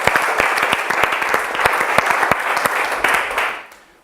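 Applause from a Bible institute class audience, dense clapping with sharp individual claps standing out, loud and steady before fading away in the last half second.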